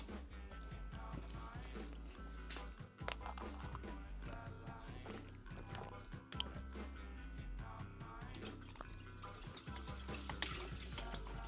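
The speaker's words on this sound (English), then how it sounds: "let me just put some water in a kettle" Water runs from a tap into a kettle in a garage, a steady trickling pour at close range over a busy, cluttered background of other noise.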